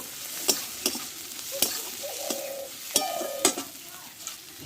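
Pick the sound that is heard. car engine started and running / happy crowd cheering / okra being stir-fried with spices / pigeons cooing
okra being stir-fried with spices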